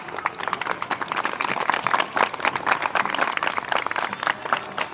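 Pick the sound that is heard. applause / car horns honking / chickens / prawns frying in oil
applause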